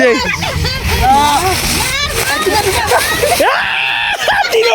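Something drops into water with a splash in an open wetland setting at Chalan Beel, Pabna, amid excited children's voices and shouting that run throughout.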